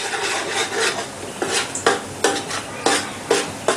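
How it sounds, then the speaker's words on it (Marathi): Ground masala paste for gram-flour-stuffed crabs is sautéed in oil, with a rhythmic series of close, rasping spatula scrapes over a light sizzle and no voices. "आता या मसाल्यामध्ये हे वाटण व्यवस्थित परतून घ्यायचं आहे"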